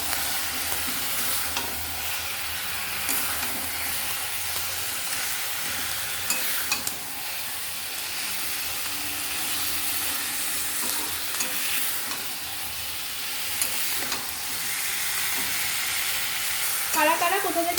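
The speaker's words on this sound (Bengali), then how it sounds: "এবার ভালো করে এপার ওপার করে নাড়িয়ে নেব।" Marinated crab is turned through frying spice masala in a pan, with a loud continuous sizzle broken by repeated scraping stirs and clatters over many seconds, and no talking.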